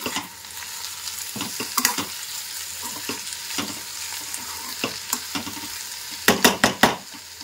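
Potatoes frying in mustard oil in a pan, a continuous close sizzle punctuated by irregular scraping stir strokes and a quick cluster of louder utensil clatters near the end, no speech.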